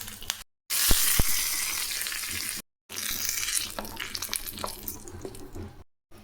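Mustard seeds and asafoetida sizzle and crackle in hot oil, a steady frying hiss broken by brief gaps, with a few sharp pops near the start and no talk.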